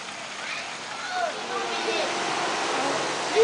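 Water runs steadily through a fish enclosure at a zoo in Singapore, a continuous close rushing and splashing like a small waterfall, with faint background voices.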